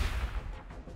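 A crack grenade explodes in the Warhammer 40K Gladius: Relics of War strategy game, a single deep, booming blast that decays quickly within a second.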